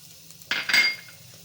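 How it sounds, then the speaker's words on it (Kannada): Sliced beetroot is tipped into a pan and stirred, giving a short, close clatter of metal utensil against the pan that lasts about half a second and then fades into quiet. "ನಾನು ಬೀಟ್ರೋಟ್ ಹಾಕ್ಕೊತಾ ಇದ್ದೀನಿ"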